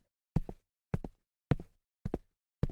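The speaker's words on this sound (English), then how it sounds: "His footsteps sounded loud to his own ears as he made his way downstairs" Footsteps along a dimly lit dormitory hallway and down the stairs at night: five distinct, fairly loud heel-and-toe steps in an even, unhurried rhythm, each separated by silence, with no voices.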